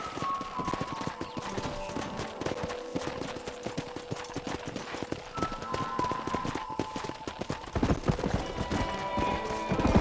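Steady clip-clop of horse hooves trotting at an even rhythm in Red Dead Redemption, close and continuous, under a busy game soundscape with faint background voices.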